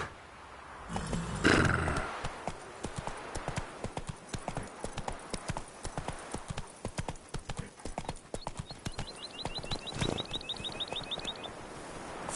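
Roach, a horse in a video game, galloping with rapid, rhythmic hoof clip-clops that run throughout, joined later by a thin, high, wavering call in the background.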